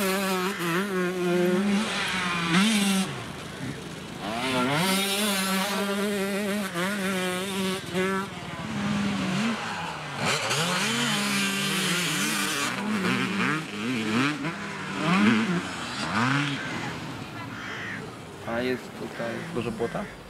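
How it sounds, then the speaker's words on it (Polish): A small motorbike rides figure eights on frozen grass, its engine buzzing and wavering in pitch as it repeatedly revs and eases through turns, fairly close, with a voice talking over it. "tutaj pojeździsz sobie ósemeczki, tak? Na początku, żebyś się wjechał z motorkiem"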